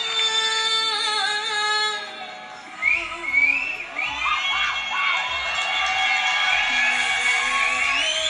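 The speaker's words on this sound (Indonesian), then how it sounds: "Penontonnya teriaknya kayak di hutan." A television singing-competition audience in Indonesia screams and cheers loudly, high excited voices rising and swelling over music, with a few shouts and whoops standing out.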